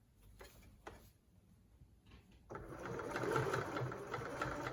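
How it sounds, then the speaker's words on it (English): Sewing machine stitching fabric for an advent calendar, a few faint mechanical ticks first, then a steady close whirring run of stitches that builds and continues to the end. "I'm going to hold down my back stitch button, or if you've got a lever, you're going to press the lever and do a few stitches."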